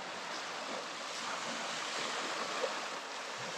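Sea waves on an Andaman shore wash in a continuous soft surf with some wind, moderately close and steady, with no voices.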